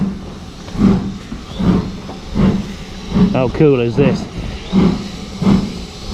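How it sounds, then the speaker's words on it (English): Steam train at Steamtown station, rhythmic chuffing exhaust bursts in a steady repeating pattern, with a brief whistle-like tonal blast in the middle; someone speaks briefly over it. "Everybody likes a steam train."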